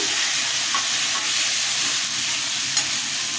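Tomatoes hitting hot oil in a frying pan with turmeric and salt give a loud, continuous sizzle and fry, with faint stirring scrapes now and then, close up and without talk.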